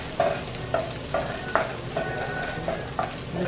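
Garlic fries in a pan for a corned beef dish, with a steady soft sizzle beneath regular, evenly spaced stirring scrapes.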